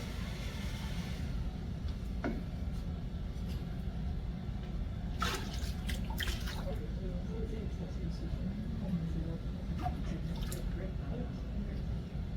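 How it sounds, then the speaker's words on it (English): White kaolin glaze is poured over a pottery piece, giving a soft wet splashing and trickling with a few brief drips, while a person talks quietly in the background. "Normally I'd probably just dip it, but I'll pour it."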